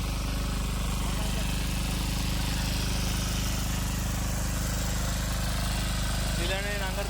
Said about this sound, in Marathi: तुम्हाला ट्रॅक्टरचा आवाज येत असेल मध्ये मध्ये